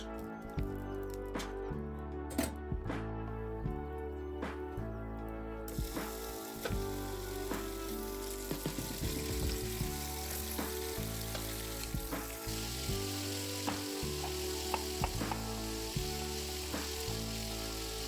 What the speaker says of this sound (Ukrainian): Спочатку в казан закидаю крупно нарізану підчеревину, підсмажую на великому вогні.